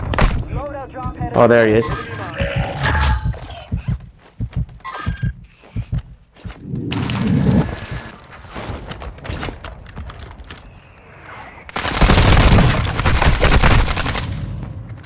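Gunfire in Call of Duty Warzone 2.0 cracks out in loud bursts, with a long sustained volley near the end, mixed with game noise while players talk over it.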